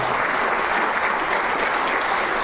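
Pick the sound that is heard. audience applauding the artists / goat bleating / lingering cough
audience applauding the artists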